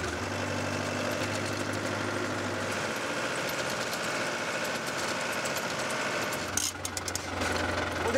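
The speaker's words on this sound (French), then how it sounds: "Ah, j'adore le tracteur." A tractor engine idles steadily on a farm in the Basque Country, giving a continuous, fairly loud rumble with a low knocking throb. Near the end a few brief clatters sound over it.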